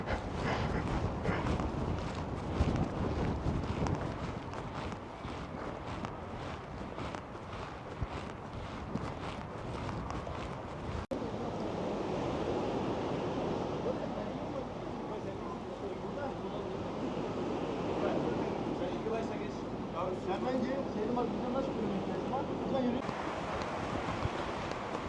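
Strong storm wind sweeps through a street in Bodrum, Turkey, a continuous buffeting roar and rumble that crackles against the microphone, with a voice faintly under it.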